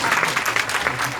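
Audience applause at a library's 90th anniversary event, a dense steady patter of many hands clapping throughout a brief burst, fairly close and alone without talk.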